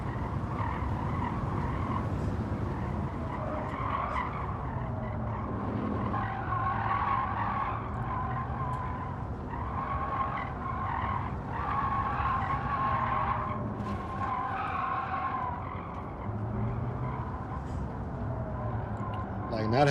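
A race car in Gran Turismo 7 at Watkins Glen accelerates with a steady engine drone and squealing tires, continuous and loud, with someone talking over it.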